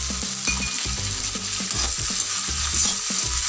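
Onions and green chillies sautéing in hot oil for rava khichdi, with steady broadband sizzle and repeated low clunks of stirring and scraping in the pan, close and continuous, no voices.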